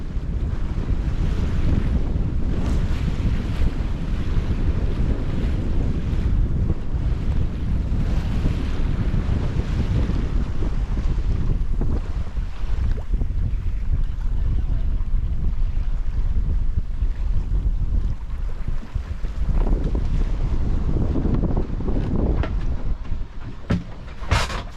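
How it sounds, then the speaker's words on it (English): Strong wind buffets a classic yacht under sail, its engine off, while racing from Durgerdam to Hoorn on Dutch waters; a loud, steady roar of gusts and rushing water continues throughout with no voices. "The wind has perked up all of a sudden, and we've turned the engine off, put the sails up"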